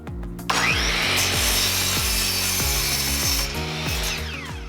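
Wooden studs for a kicker ramp being power-sawn to length: a loud, continuous close-up cut with rapid rhythmic blade strokes grinding through the wood for several seconds, no talking.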